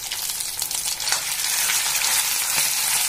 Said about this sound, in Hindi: दबा दबा के इसको स्लो गैस पे भूनना है